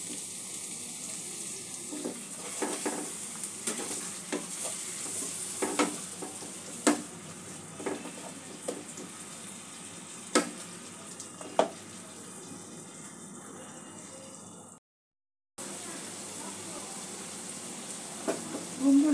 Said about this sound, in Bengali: মশলাটা একটু ভালো করে কষে নেব সামান্য জল দিয়ে